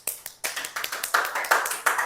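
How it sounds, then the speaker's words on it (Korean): Students in a middle-school science classroom clap together in an uneven burst of a dozen or so sharp claps, moderately close and with no talking over them. "맞은 사람, 틀린 사람 모두 박수!"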